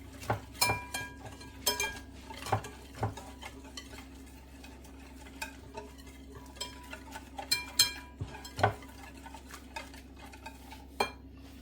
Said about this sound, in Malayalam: ഇനി ഒന്ന് മിക്സ് ചെയ്തിട്ട് ഒന്ന് കൺസിസ്റ്റൻസി നോക്കിയിട്ട് കുറച്ചും കൂടെ ഇട്ട് കൊടുക്കാം.